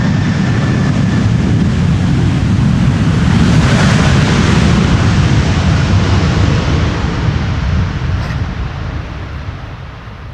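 Airliner landing in a crosswind on Polderbaan runway 18R at Amsterdam Schiphol, engine thrust reversers giving a loud, close, rushing roar that holds steady and then slowly fades, with no talking.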